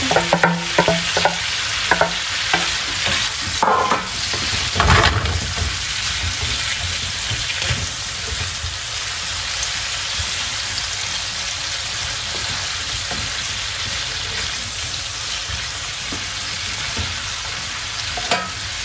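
Mushrooms fry and sizzle in a pan with gizzards nearby, loud and close, while a utensil scrapes and stirs in bursts early on before the hiss settles into a steady crackle.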